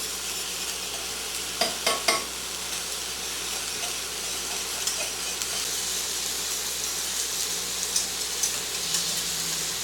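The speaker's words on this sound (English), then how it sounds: "I'm going to whisk this in till it is thickened" Cornmeal is whisked into a pot until it thickens, over a steady hiss. A quick cluster of whisk taps comes early, then lighter clinks recur.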